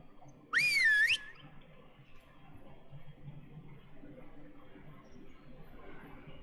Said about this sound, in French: Et si je siffle, c'est pour...